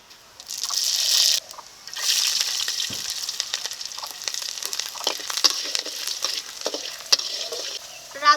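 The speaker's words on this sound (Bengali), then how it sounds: "রাঁধুনি ও রসুনটাকে হালকা ভেজে নিয়েছি" Radhuni seeds and garlic fry in hot oil with a steady crackling sizzle, broken by a spatula stirring and scraping the pan, close and fairly loud, with no speech.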